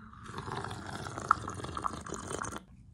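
Milk poured into a cup of coffee, a steady liquid stream trickling and filling for about two seconds before stopping abruptly, close and fairly quiet.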